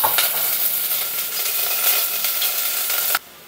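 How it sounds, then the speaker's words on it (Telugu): Onion pieces frying in hot ghee for matar pulao, a loud close crackling sizzle that runs steadily for about three seconds and then cuts off abruptly. "ఇప్పుడు ఆయిల్ ఈ నెయ్యి బాగా వేడెక్కిన తర్వాత ఆనియన్ ముక్కలు వేసుకోవాలి."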